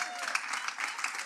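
A church congregation claps in a brief, even burst of applause heard from some distance, mixed with a faint voice.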